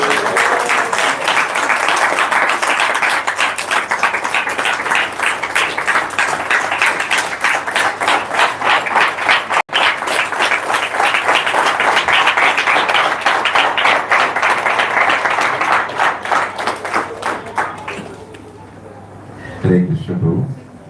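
Loud, sustained applause from a large crowd, dense clapping filling the space for most of the clip before tapering off near the end.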